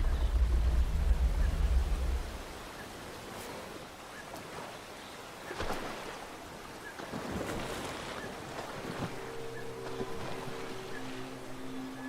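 River water rushes and washes in a steady broadband wash, with gusty wind noise, where a wounded Tyrannosaurus rex bathes. A heavy low rumble opens the scene before settling into continuous flowing water.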